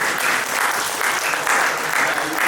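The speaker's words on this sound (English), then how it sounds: "Clap for Anastasia" Audience applause after a pitch at a startup pitch event, a steady, dense wash of clapping from a crowd that holds evenly for the whole stretch with no voices on top.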